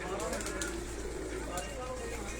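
Pigeons kept at a pigeon keeper's house coo softly under a loud wash of background noise, with a person's voice faintly present.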